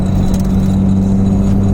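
Honda Civic with an H2B engine swap idles unevenly, a steady low mechanical hum with a slightly wavering, lumpy tone, close up and continuous with no talking.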